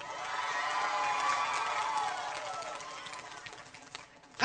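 A Filipino TV game show studio audience claps and cheers, a busy crowd roar with shouting voices that swells and then slowly fades, ending on a sharp burst.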